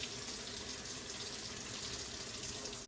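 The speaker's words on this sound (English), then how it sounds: "fill the bowl with cold water" Cold tap water runs steadily from a faucet into a bowl at a sink, a continuous close gushing hiss that lasts throughout and cuts off right at the end.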